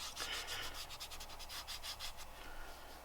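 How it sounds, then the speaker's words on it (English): A guitar pedal enclosure is wiped down with rubbing alcohol, a steady close rubbing and scrubbing sound of cloth on metal in quick repeated strokes, fading slightly near the end. "You're going to want to clean it off with rubbing alcohol."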